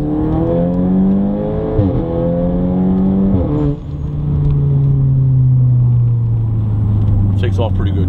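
Audi S3 with a small turbo pulling hard, its engine revving up through the gears with rising pitch sweeps, a brief shift dip, then a strong sustained drone, loud and close with talk over it.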